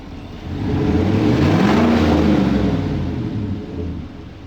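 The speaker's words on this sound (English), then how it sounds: "Okay, go rev it a little bit" A 2018 Chevrolet Silverado engine with a newly installed aftermarket air intake revs once, rising in a smooth low rumble that swells and then eases back toward idle, close and steady.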